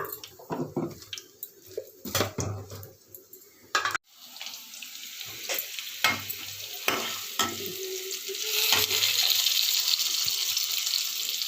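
Aloo kurma frying with ginger-garlic paste in a home kitchen: a soft sizzle broken by stirring clatter and scraping, then a steadier hiss of frying building up over the later seconds.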